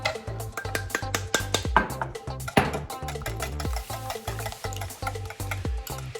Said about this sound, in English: we mix it all in, but you kind of got to go by feel once you start mixing it in